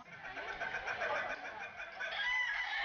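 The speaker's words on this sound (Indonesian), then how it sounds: "barulah pemilik ayam ini menenggerkan ayam jagoannya untuk tertawa di atas tenggeran yang didirikan di dalam arena kontes" Ayam ketawa laughing chicken calling from a perch at a contest arena, a rapid rhythmic cackling crow repeating steadily, fairly close and clear, with no speech.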